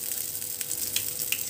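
Curry leaves and chopped ingredients sizzle in hot oil, a faint steady hiss with small crackles and pops scattered through it. Nobody talks.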